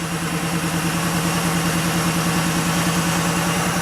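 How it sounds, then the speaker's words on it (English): A Porsche 3.2 Carrera engine idles steadily on a cold day, making a loud, even, continuous rumble with a regular pulsing rhythm close by. "I'm just gonna let it idle a little bit."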